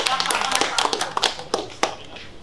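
A crowd claps in scattered, uneven bursts at a Motus rap battle, sharp hand claps close and crisp, with voices talking over them.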